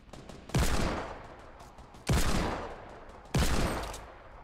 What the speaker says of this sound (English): I'm getting shot in the back somewhere.